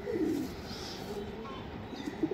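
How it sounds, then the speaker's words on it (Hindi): Soft, low cooing of pigeons nearby, a couple of throaty coos over a quiet outdoor background. "जे आए हैं कबूतर"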